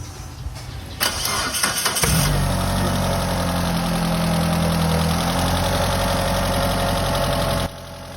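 A Mitsubishi Grandis 4G64 engine cranks and fires after a top overhaul, then settles into a loud, steady, somewhat noisy idle with a rough, rattling tone, running close by for several seconds before cutting off.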